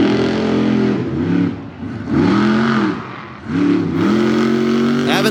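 The General Tire Ram race truck, fitted with aggressive cleated tires, roars down the track at Bloomsburg with several rising revs and gear-change dips, loud and close, under a commentator's voice.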